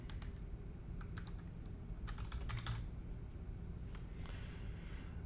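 Passphrase being typed on a computer keyboard during a Linux install: several short bursts of quick, light key clicks with pauses between them, close and fairly quiet over a low background hum.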